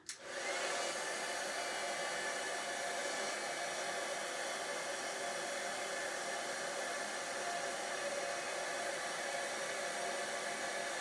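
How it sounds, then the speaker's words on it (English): A heat gun heating embossing powder blows steadily with a constant, loud whooshing hum from start to finish, no voices. "So here goes a bit of noise as we heat this embossing powder."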